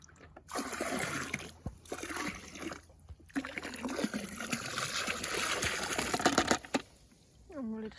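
A fishing net rinsed out in water, with faint close splashing, sloshing and dripping in irregular bursts over several seconds at an outdoor waterside.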